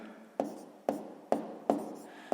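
Pen strokes write out a math solution on paper, five sharp taps in a regular rhythm each followed by a short scratching drag, close and clear with no talk.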